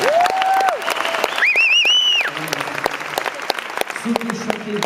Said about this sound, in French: Et là, vous applaudissez comme des dingues encore.